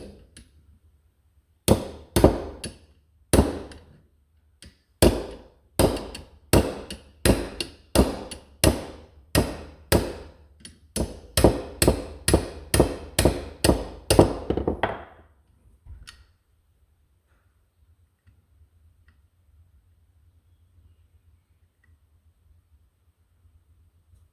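Hammer tapping on a roller in a small workshop, about two dozen sharp, close strikes in a fairly steady rhythm that stop suddenly and are followed by near silence.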